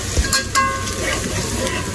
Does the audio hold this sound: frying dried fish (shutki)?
yes